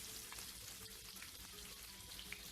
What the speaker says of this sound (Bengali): তেলটা গরম হয়ে যাওয়ার পরে মাছ আর মাছের ডিমটাও দিয়ে দিচ্ছি।